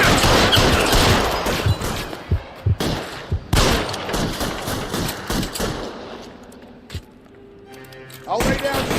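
Rapid bursts of gunfire ring out in L.A. Noire during a police shootout, loud overlapping shots and thuds in dense clusters that ease off toward the end before one more sharp burst.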